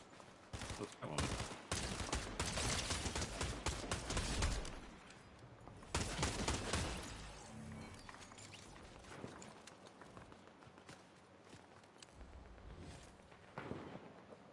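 Rapid bursts of gunfire and booming explosions from a Fortnite match, dense and loud in the first half, then thinning to scattered distant shots and impacts.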